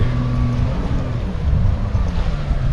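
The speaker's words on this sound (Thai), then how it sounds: "ฟังเสียงเจ็ตสกี" A steady jet ski engine drone over a freshwater reservoir, with wind buffeting the microphone and waves washing underneath, loud and continuous throughout.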